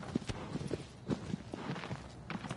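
Horse hooves clip-clop in Shadow of the Colossus at a walking pace, a close, uneven series of soft thuds and clicks over a quiet background.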